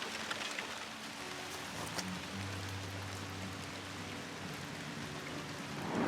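Rain falling steadily in a vegetable garden of squash and cucumbers, a soft continuous patter and hiss at low level with no voices.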